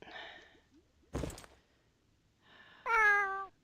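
A house cat meows twice indoors, a short breathy mew followed after a gap by a longer, clear tonal meow, close and alone with a brief rustle between.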